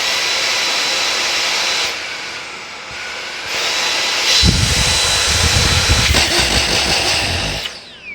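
A high-pitched motor whine from a Dyson Gen5detect cordless vacuum cleaner on max power runs steadily, then deepens into a louder, rougher roar before cutting off near the end.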